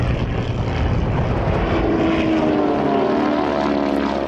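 A two-seat, all-carbon-fiber Extra 342 unlimited aerobatic plane with a 315-horsepower propeller engine roars loudly and steadily, its pitch slowly shifting as it passes close by at an air show, no talking.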